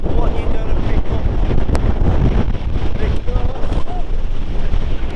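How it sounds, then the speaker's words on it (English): Strong wind buffets the microphone with constant low rumbling gusts at Castleton, Derbyshire, and a voice briefly speaks under the roar. "it's a little bit windy"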